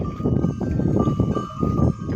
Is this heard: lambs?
yes